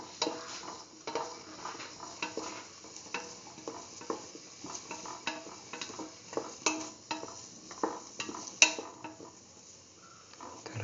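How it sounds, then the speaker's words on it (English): Split mung bean and eggplant mix sautéed and stirred in a pan, a quiet bed of frying under a long run of repeated utensil scrapes and light clinks at an uneven pace. "Thoroughly saute and mix."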